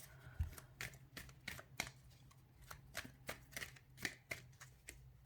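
Tarot deck shuffled for a card reading, giving a quick run of crisp, close riffles and card-on-card snaps in an uneven rhythm, quiet with no voice over it.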